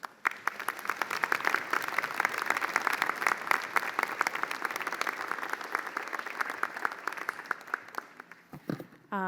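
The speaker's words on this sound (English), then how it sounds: "Please give them a round of applause." At a university convocation ceremony, an audience claps steadily for Okanagan Nation singers, a sustained round of applause that fades out near the end before a brief voice.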